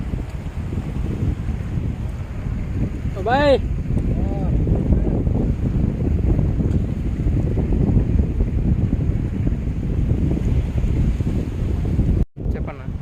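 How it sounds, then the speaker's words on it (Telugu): Wind-buffeted seaside ambience on the beach at Nizampatnam, a steady broadband rush of surf and wind noise on the microphone, with a brief voice and a sharp bump near the end. "ఇది మా నిండు సముద్రం"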